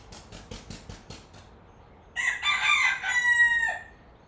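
A rooster crows once, loud and fairly close, after a short run of rhythmic clucking or pecking-like taps, with no one speaking.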